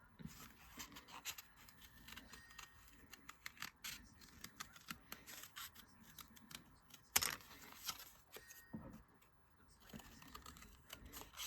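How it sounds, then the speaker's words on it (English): Scissors snip through fabric in quiet, irregular bursts of crisp cutting sounds, close and faint, with short pauses between cuts. "take the scissors and cut it out"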